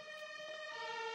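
Fire engine siren wailing steadily as a continuous tonal sweep, moderately distant and fairly faint, with no talk over it.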